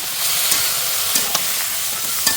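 Mixed vegetable curry being sautéed with spices and salt in a pan, giving a steady close sizzle and hiss with a few sharp clinks of the stirring spoon scattered throughout.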